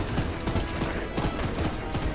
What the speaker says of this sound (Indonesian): Wah, kita tembak-tembakan lagi.